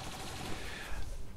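Rapid automatic gunfire rattles in a quick burst from XCOM 2, a dense continuous volley close up with no voices over it.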